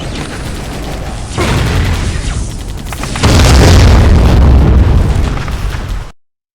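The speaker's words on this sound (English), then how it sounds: "I stepped on a mine." A mine in the video game Vivisector: Beast Within goes off underfoot with a loud, heavy booming blast that swells into a second, stronger rumbling explosion before cutting off abruptly.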